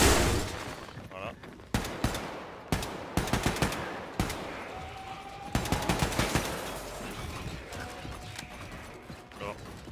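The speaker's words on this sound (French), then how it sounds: "en général j'utilise principalement le fusil d'assaut, mais le fusil à pompe est aussi très efficace" Assault rifle and pump shotgun fire in Wolfenstein The New Colossus, with sharp bursts of shots in clusters across the stretch, some rapid volleys and single blasts over a busy game soundscape.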